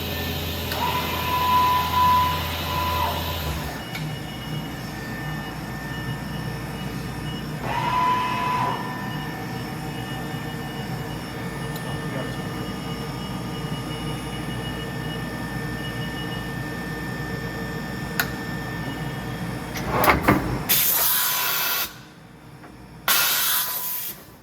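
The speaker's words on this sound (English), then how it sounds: "we'll just show that it can do a tool change" A Bridgeport Discovery 308 SX CNC mill runs through a tool change: steady machine hum and hiss with a brief tonal whine early on, then a sharp burst of pneumatic hissing and clunks near the end, no talk.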